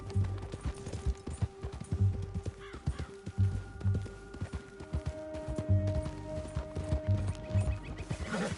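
A horse in the western video game Red Dead Redemption 2 gallops in a quick repeating clip-clop rhythm of hoofbeats that runs steadily throughout, close and moderately loud, with faint crow calls in the background.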